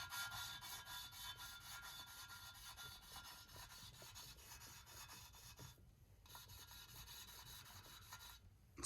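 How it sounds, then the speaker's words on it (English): Engine valve being lapped by hand into its seat with fine lapping compound, a steady gritty rubbing and rasping that runs continuously and close, easing briefly near the end. "So now we have the fine lapping compound around the valve."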